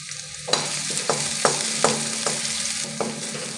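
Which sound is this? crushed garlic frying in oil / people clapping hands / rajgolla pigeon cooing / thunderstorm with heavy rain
crushed garlic frying in oil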